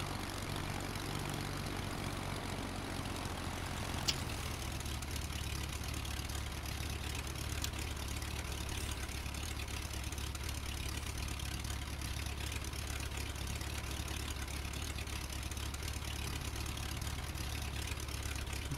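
A propeller airplane engine drones steadily as the aircraft taxis toward a runway in a flight simulator game, a continuous low idle hum with no voices.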